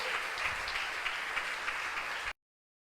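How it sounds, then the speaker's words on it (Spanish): A church congregation applauding during a Spanish-language service: a steady wash of many hands clapping, heard from a distance and fairly soft, that cuts off abruptly near the end. "Dale un aplauso al Señor en esta mañana."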